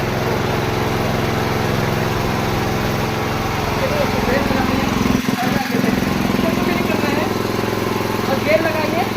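A power weeder's small engine runs with a steady, loud mechanical drone after a pull start, briefly dipping mid-way before carrying on, while someone talks over it.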